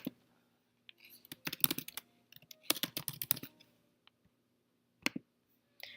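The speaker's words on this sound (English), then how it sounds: "I'm going to type it again and select all the other ones" Quick bursts of typing on a computer keyboard, clustered key clicks separated by short pauses, close and crisp in an otherwise quiet room.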